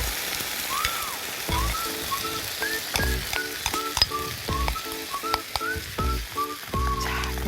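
Thinly sliced beef with mushrooms and wilted green onion sizzles steadily in a hot pan as sauce goes in, with scraping stirs and little clicks over a continuous close fry.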